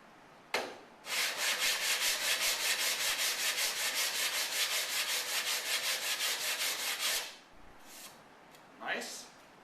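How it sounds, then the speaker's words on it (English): Rapid, rhythmic scraping of coarse 60-grit sandpaper on a sanding block against wood, dozens of quick back-and-forth strokes for several seconds, then a few slower rubs. "move on to your sandpaper and a sanding block, starting with a very coarse grade 60 grit"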